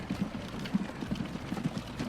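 Horses trotting in the Transport Fever video game, a soft, steady run of rhythmic hoof clops, moderately faint and without talk.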